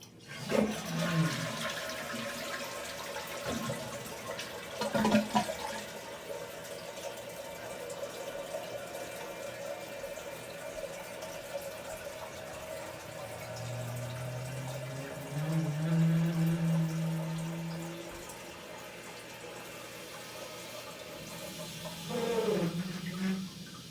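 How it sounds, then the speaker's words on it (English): A toilet flushes in a run-down apartment with poor plumbing, a close rushing roar of water followed by a long refill with a rising, groaning pipe tone and a final gurgling surge. "I'm going to flush it one more time so you can hear it without the fan"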